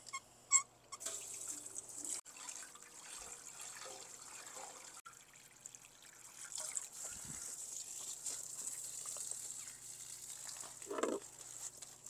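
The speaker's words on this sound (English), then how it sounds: "I see water leaking." Water leaks from a modified V8 oil pan being leak tested, giving a faint, soft trickle that rises into a steady low splashing in the second half, with a few clanks early on.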